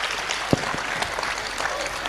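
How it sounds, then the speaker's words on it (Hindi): A crowd applauds at a Hindi-language religious gathering, giving a brief burst of clapping that sounds somewhat distant and washy, with a faint voice mixed into the noise. "जोरदार ताली बजा करके आप सब धन्यवाद देंगे।"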